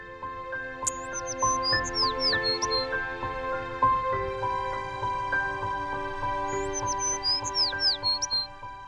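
Birds chirp and call in repeated bright bursts at an outdoor tree-carving sculpture exhibition in Polonezköy, Beykoz, set against a steady bed of tonal ambient drones and hum, with no one talking.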